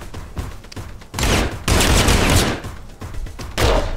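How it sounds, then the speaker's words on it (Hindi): Rapid bursts of gunfire from a gun in the action game Anger Foot, several loud dense volleys separated by short pauses, close and with no talk. "अभी पहले से मेरे साथ पास एक गन है।"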